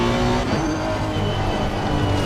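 Race car in a sim-racing game, its engine droning loud and steady up close, with pitch dips suggesting gear changes and faint tire squeal underneath.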